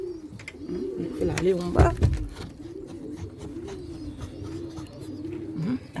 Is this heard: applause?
no